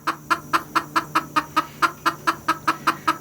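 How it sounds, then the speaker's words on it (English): A hen clucks in a fast, steady run of sharp, close, agitated calls, about four per second and evenly spaced. "This is being fussed at in chicken."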